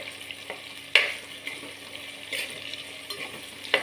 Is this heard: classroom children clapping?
no